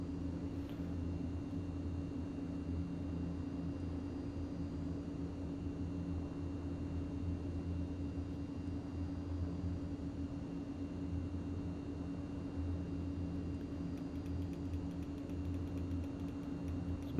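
Steady, droning engine noise of a Mitsubishi MU-2 turboprop airplane landing on a runway, heard from inside the cabin as a constant low hum with a broad hiss, unbroken and without voices.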